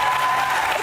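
A talk-show studio audience breaks into dense, steady clapping that fills the moment briefly and evenly.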